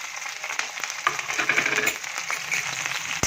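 Chopped green chillies fry in a pan with a steady crackling sizzle that runs throughout, close by, punctuated by brief sharper pops.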